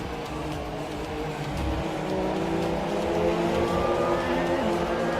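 Formula 1 race cars at the Russian Grand Prix drone steadily through a pit stop sequence, a continuous engine roar that swells slightly louder midway with no pauses.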